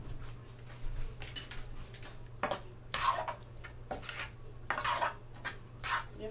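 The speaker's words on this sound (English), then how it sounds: "Give that a bit of a stir" Garlic is stirred in a cooking pot for supreme pizza pasta, a utensil scraping and clinking in short irregular strokes against the metal, quiet and close over a low constant hum.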